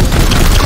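A loud, dense burst of gunfire from the video game Warhammer 40k: Chaos Gate – Daemonhunters, a short booming blast filling the whole moment.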